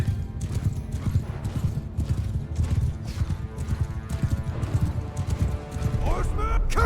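Hooves of horses galloping in a Mount & Blade 2 Bannerlord battle, with rapid clip-clop beats throughout, occasional neighs and shouting voices amid the fighting noise.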